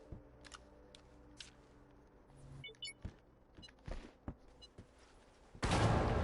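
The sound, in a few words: explosion blowing up an object in the video game Astroneer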